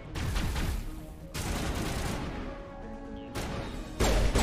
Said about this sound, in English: Who's shooting me here?